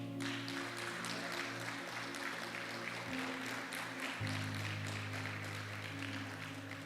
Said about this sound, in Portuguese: Aplauda Deus nessa noite.